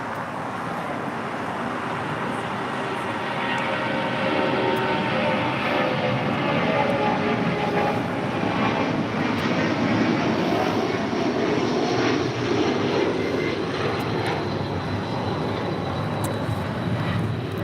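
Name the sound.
Delta Boeing 757-200 taking off to JFK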